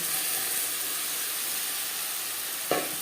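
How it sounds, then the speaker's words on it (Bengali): Water poured into a hot pan of latha (snakehead) fish curry gives a steady, loud sizzling hiss throughout, with a brief sharper burst of spitting near the end. "যেই বাটিতে করে আমি মাছ ম্যারিনেট করেছিলাম সেটা ধুয়ে আমি জল অ্যাড করলাম"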